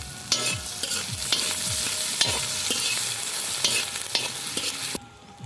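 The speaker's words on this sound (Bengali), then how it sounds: "তার সাথে দিয়ে দেবো আদা বাটা। এটা সুন্দরভাবে ভাজে নেব।" Ginger paste fries in a pan for khichuri, a steady close sizzle broken by repeated sharp spoon scrapes and stirring knocks, then stopping abruptly in the final half second.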